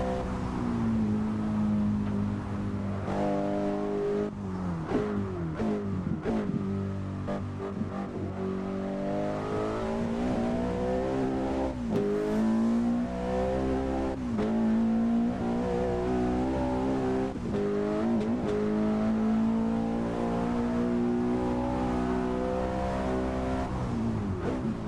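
Racing car engine in the game Assetto Corsa on the Nordschleife, a loud continuous drone that keeps climbing and dropping through gear changes over about 25 seconds, heard alone without speech.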